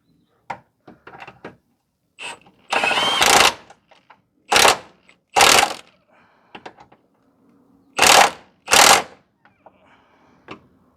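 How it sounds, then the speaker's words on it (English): A 19 mm bolt being tightened on the lower control arm of a 2009 Pontiac Vibe 2.4, heard as bursts of rapid ratcheting, several short clicks between them, close and alone. "So we are just going to tighten up the bolt here. It's a 19 mil."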